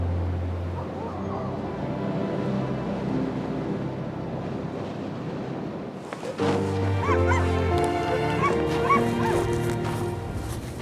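Arctic sled dogs bark, yip and whimper as they return from a hunt, a lively mix of overlapping calls from several animals outdoors, with a wind or surf-like wash underneath.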